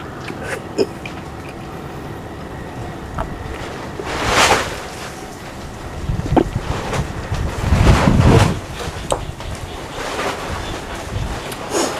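Strong wind gusting outdoors as dark clouds bring rain, roaring buffeting bursts swelling and fading across the microphone, loudest in two long surges, with scattered faint knocks and rustles between.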